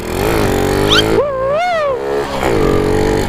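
A Honda Wave 125 motorcycle on a forest trail, its engine close and loud, revving up and down in rising and falling sweeps before settling back to a steady hum.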